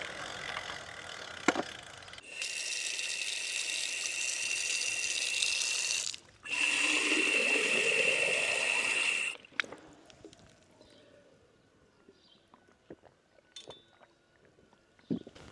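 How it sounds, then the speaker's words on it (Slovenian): A water tap beside a playground pours in two loud, steady bursts of splashing flow separated by a short pause, then shuts off, leaving faint outdoor background with scattered small knocks. "Tukaj na Ligu je igrišče in tik ob igrišču je vodna pipa."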